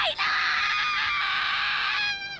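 Gabi from the anime Attack on Titan lets out a bone-chilling screech, one loud sustained high-pitched scream lasting about two seconds that cuts off abruptly.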